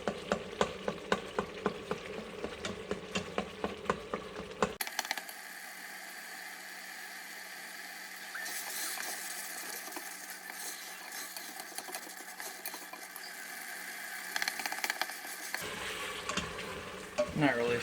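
Seasoned taco meat sizzles and fries in an Instant Pot, with rhythmic scraping as it's stirred at first, then a steady hiss of frying that continues close and even before stirring resumes near the end.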